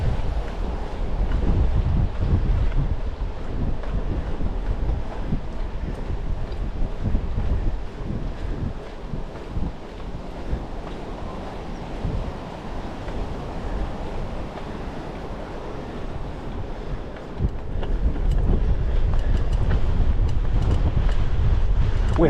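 Small waves lapping on a wide section of the Leeds Liverpool canal near a towpath, heard as a steady churning wash under heavy, continuous wind buffeting on the microphone.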